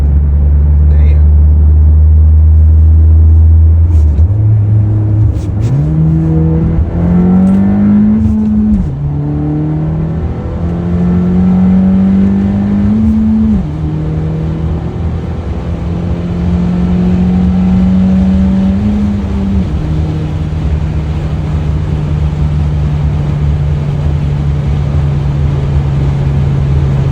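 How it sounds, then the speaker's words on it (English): A 2023 Acura Integra / 2022 Honda Civic Si with an MBRP aftermarket exhaust on a night drive, loud and close, climbing through several gear-shift pulls with rising drone before settling into a steady cruise tone. "Hopefully you got to hear the exhaust. I think it sounds great."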